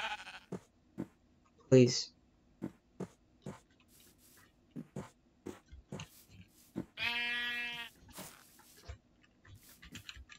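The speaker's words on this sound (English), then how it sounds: "Come here, sheep." A sheep in Minecraft gives one clear drawn-out bleat near the middle, set among sparse clicking game sounds and short bursts of activity, while a person speaks briefly nearby.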